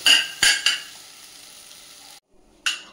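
Greens (saag) stir-fried in a pan, seasoned only with salt and turmeric over medium flame: a soft, steady sizzle punctuated by a few sharp scrapes and clinks of the spatula, with a brief pause.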